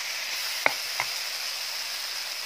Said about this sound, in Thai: ใช้ตะหลิวดีๆเลยนะคะคลุกเคล้าให้เข้ากันเลยค่ะ